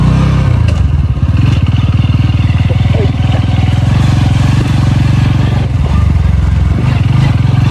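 A Bajaj NS200 motorcycle rolls downhill in gear, its engine thrumming in a low, steady, loud rumble close to the rider, with wind buffeting and occasional rattles from the rough road.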